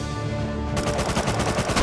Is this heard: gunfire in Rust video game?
yes